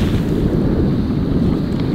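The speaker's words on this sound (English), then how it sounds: "Wind is straight out the left." Strong wind buffets the microphone on an open golf course, a constant low roaring rush that fills the short stretch without any voices.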